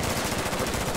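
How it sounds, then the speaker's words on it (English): Rapid automatic gunfire in the military shooter Squad, rounds fired at a shipping container, a dense continuous rattle filling the whole moment. "They tried to put rounds to the container."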